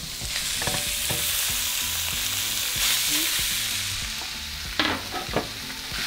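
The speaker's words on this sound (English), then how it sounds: "Once it heats up, we're going to throw in our meat." Meat sizzling in a large frying pan over medium-high heat, a steady loud frying hiss throughout with occasional scraping stirs and clinks of a utensil.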